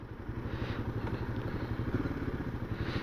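A Royal Enfield Himalayan motorcycle engine idles steadily close by, a low, even throbbing pulse with faint mechanical clatter and no talking.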